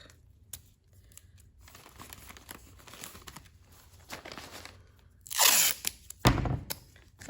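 Bits of tape are torn off a roll for a sculpture, with scattered small handling clicks followed by a loud, close ripping burst and a thump near the end.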